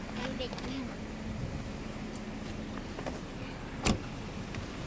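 An old Mercedes-Benz engine idles with a steady, smooth low hum close by, with faint background voices and a brief knock near the end.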